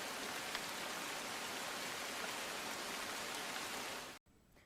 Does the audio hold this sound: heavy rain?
yes